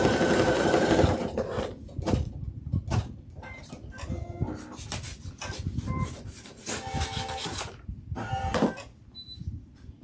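An embroidery machine stitches an in-the-hoop design, with a rapid mechanical needle chatter in uneven bursts, pauses and rubbing noises, fairly close and moderately loud.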